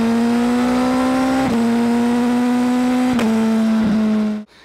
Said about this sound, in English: To go along with the most angry inline four is the exhaust note.